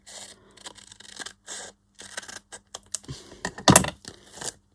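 Scissors snip through a vellum sticker sheet in a craft session, a string of close, crisp cuts and rustles in short bursts, the loudest snip near the end.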